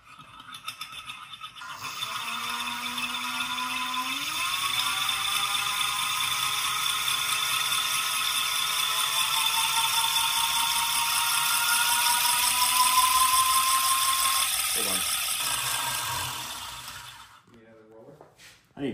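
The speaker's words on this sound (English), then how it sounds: "So you're going to spin this up for us, and then at a certain RPM, it'll go quiet." A Searl effect generator roller spins up with a rising mechanical whir and ratcheting rattle whose pitch climbs, then holds steady at speed before winding down near the end; a voice talks briefly at the edges.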